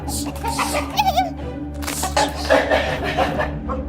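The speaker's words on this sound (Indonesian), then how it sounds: "ini kenapa ayam dibiarin naik meja?" A chicken standing on a table clucks in short bursts, close and fairly loud, mixed with background voices and household noise.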